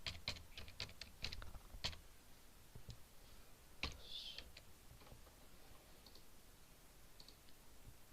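Keys clatter on a computer keyboard while Java code is entered, a quick close run of clicks followed by scattered single keystrokes and a few pauses, quiet and without speech.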